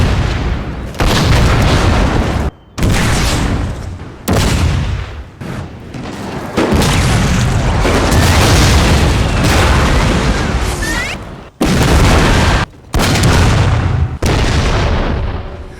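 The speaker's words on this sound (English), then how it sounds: "Confederate artillery opened fire on the Union brigades as they advanced." Artillery fire from Confederate guns on elevated ground in a Total War game battle depicting the 1862 Battle of Fredericksburg, with repeated loud booming cannon blasts and gunfire volleys sounding near and dense throughout.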